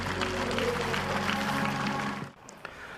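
An audience claps warmly at the opening ceremony of a Buddhist nursing hospital. The dense, steady applause blends with sustained background tones and then cuts off sharply partway through.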